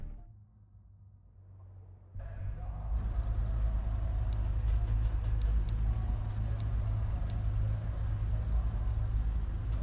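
Porsche 992 engine in a racing video game: after a quiet start, a loud, steady engine drone kicks in and holds, with a deep low rumble.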